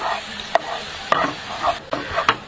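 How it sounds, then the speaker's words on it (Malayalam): Sticky Coca-Cola reduced to a thick tar in a non-stick pan, stirred with a steady scraping rhythm under a soft bubbling sizzle, with a few sharper utensil knocks against the pan, close and alone. "ഇപ്പൊ നമ്മുടെ കൊക്കക്കോളതേ നമ്മള് ചൂടാക്കി ഈ ഒരു പരിവായിട്ടുണ്ട് കേട്ടോ"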